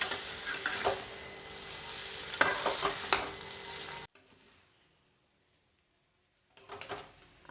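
Chicken chow being stirred in a hot pan, sizzling with scraping strokes for about four seconds, then a pause before the stirring starts again.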